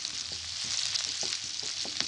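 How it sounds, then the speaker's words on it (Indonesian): Shallots and garlic frying in oil in a pan, a constant close sizzle with soft scraping stirs at a loose, irregular rhythm. "Untuk awalnya kita bisa goreng dulu untuk bawang merah dan bawang putih."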